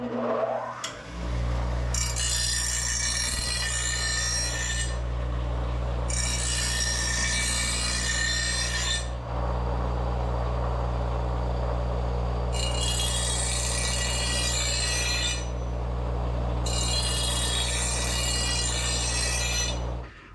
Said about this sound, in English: It actually doesn't take much to sharpen this. It's really rounded right now, but these angle grinders work real good.